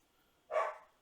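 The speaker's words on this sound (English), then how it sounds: "I really don't feel like stopping this video to try to quiet that dog down." A single short dog bark rings out in the background, moderately loud against an otherwise quiet room.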